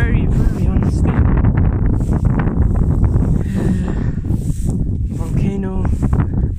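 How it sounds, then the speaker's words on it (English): Strong wind buffets the microphone in a constant rough roar on a rocky volcanic trail, with a voice speaking underneath. "hopefully my voice is clear because it's a bit windy"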